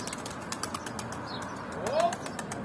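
A pigeon flies close by in a field in Antalya, its wings giving a rapid run of soft flapping beats, with a short chirp near the end over steady outdoor background noise.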